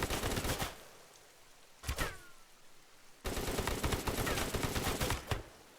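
Machine gun fire in the game RimWorld, rapid bursts of shots in several volleys with short pauses between, fairly close and crisp, with no talk over it.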